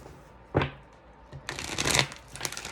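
An oracle card deck is shuffled up close: a brief riffle, a pause, then a longer flurry of cards slapping and fluttering together, with no one talking.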